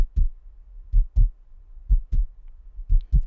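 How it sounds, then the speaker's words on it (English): A slow heartbeat, deep paired thumps repeating evenly about once a second, close and clear against near silence. "Your heartbeat, it's slowing down?"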